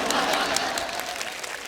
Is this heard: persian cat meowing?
no